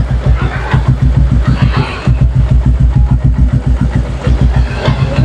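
A 1984 Binter Merzy motorcycle engine idles smoothly close by, with a loud, even, low putter and a steady rapid pulse throughout.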